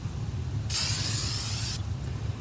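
A steady aerosol hiss of a Minwax Polycrylic spray can bursts out for about a second, close and loud, then stops abruptly over a low background hum.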